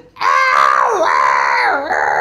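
A voice loudly imitates a bird's proud cackle, making one long, strained, wavering screech with dips in pitch, heard close and alone.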